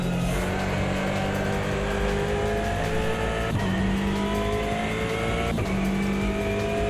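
A race car engine from the Automobilista 2 sim racing game drones loudly at high revs, rising steadily and dropping sharply at two gear shifts, with a constant, close, continuous roar.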